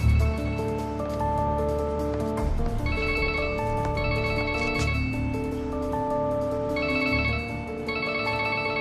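A mobile phone rings nearby, playing a melodic electronic ringtone. Its pattern of bright tones repeats in short phrases with brief pauses between them, and no one speaks.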